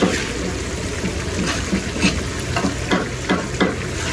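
Steady sizzle of small fish frying in a hot, open pan, with soft scraping stirs coming every second or so.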